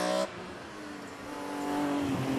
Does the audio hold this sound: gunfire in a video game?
no